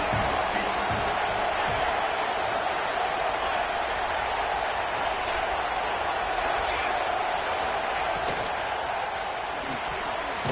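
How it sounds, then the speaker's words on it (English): A big football stadium crowd in Happy Valley roars on third down, a loud, unbroken wall of cheering and whooping that swells evenly across the stands for over ten seconds. "Here comes the noise from this big crowd in Happy Valley on third down"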